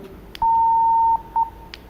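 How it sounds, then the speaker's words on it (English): A steady electronic beep tone from a two-way radio, warning that transmission is unencrypted, sounds for under a second, followed by two short chirps, clean and close against a faint hiss. "It has a little beep in front of it to tell me that, hey, your encryption is not on"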